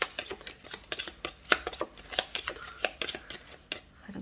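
A deck of tarot cards being shuffled by hand, a quiet series of soft, quick papery riffles and taps in an irregular rhythm, close and gentle with no talking.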